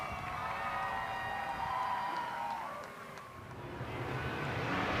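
Crowd at Lernerville Speedway cheering for AJ Flick after his opening night feature win, a broad steady roar from the grandstand that dips briefly midway and then swells again, with engine rumble underneath.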